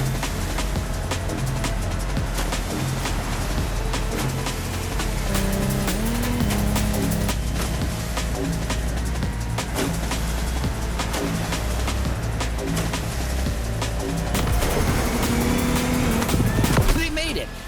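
Lamborghini Technomar speedboat engines roar at race pace in The Crew Motorfest, a dense, loud, continuous drone that holds steady and surges near the end.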